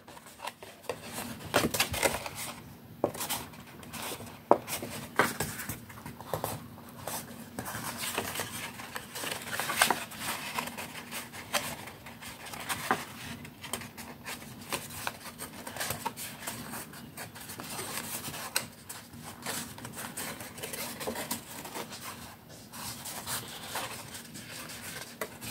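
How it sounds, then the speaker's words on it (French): Close, quiet rubbing and pressing as a paper card's folds are creased by hand, a continuous dry scraping patter with small taps, no voices. "je viens marquer les plis finales"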